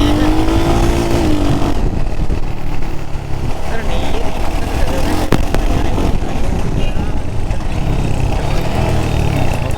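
Royal Enfield Hunter 350 motorcycle being ridden at cruising speed, a steady loud engine drone with road and wind rumble throughout, while a rider talks over it.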